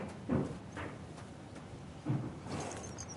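In Kingdom Come Deliverance 2, a horse named Acorn makes a few soft hoof thuds at a slow, spaced pace over faint outdoor game ambience, with no talk.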